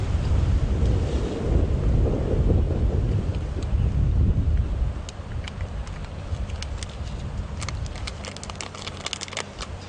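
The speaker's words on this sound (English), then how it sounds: "This wind really is good." Steady wind rushing and buffeting a microphone outdoors on a safari drive near sleeping lions, loud and gusty at first, then easing into a lighter continuous blow with faint crackles.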